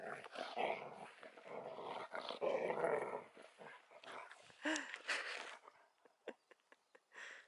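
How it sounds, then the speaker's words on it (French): A dog makes soft growls, whimpers and small yips close by, with quiet gaps between its vocal bursts. "Voilà, c'est un chien heureux."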